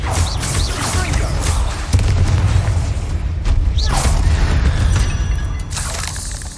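Confringo blasting spells from the Hogwarts Legacy video game burst in heavy booming explosions, one sharp blast near the start and another a couple of seconds later, over a constant rumbling game soundscape.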